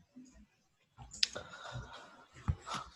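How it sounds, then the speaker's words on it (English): Quiet clicking of keys on a computer keyboard, a few soft irregular taps with one sharper click, heard faintly over a low background with faint murmuring. "Fabrizio is still typing"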